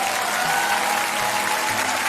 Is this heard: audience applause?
yes